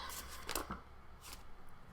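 Deck of playing cards being shuffled by hand in a quiet room, a few soft riffling bursts and brief flutters, faint and close.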